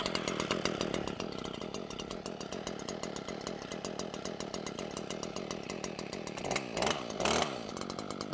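A STIHL FS 94R string trimmer's small two-stroke engine running after starting, a loud, steady buzzing putter close by that briefly surges in revs near the end, with no voices.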